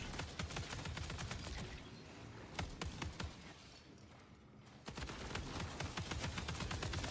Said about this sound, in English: Okay, so that's an LMG that they're using.